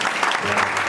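Church congregation applauding, a brief dense wash of clapping from a crowd in a hall, with a voice over it.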